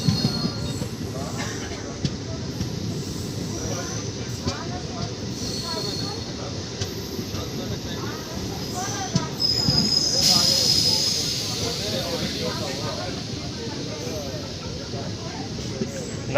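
An Indian Railways MEMU electric commuter train running between Hoodi and Whitefield in Bangalore, a loud continuous rumble of wheels on rails with hiss and a brief high wheel squeal partway through, heard from inside a carriage.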